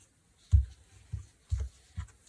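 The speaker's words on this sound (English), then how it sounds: "I'll just fold it like this in half." Paper is folded in half by hand while making winter journal cards, with four soft, dull pressing and creasing thumps spaced about half a second apart, close and quiet.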